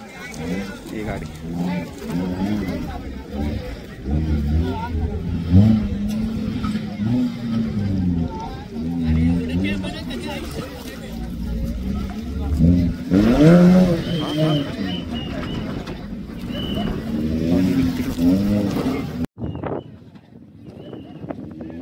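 An off-road race vehicle runs on a rough dirt track at a 2025 off-road competition in Karad. Its engine drones and revs with rising and falling pitch, loud and fairly close, while people talk over it.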